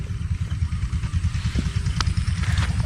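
Close, loud boat engine running at a steady putter, rapid rhythmic low thumping throughout, with a few faint clanks on top.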